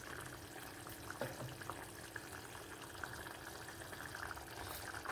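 A pan of drumstick and turkey berry vathal kuzhambu, a tamarind curry, bubbles and simmers on the stove with a steady, soft, continuous seething and small popping bursts throughout.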